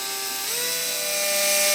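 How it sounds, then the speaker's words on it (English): A power drill bores a 2mm pilot hole, its high steady whine rising slightly in pitch partway through and growing a little louder, heard close and alone. "I'm drilling down through the center of these dots using like a 2mm bit"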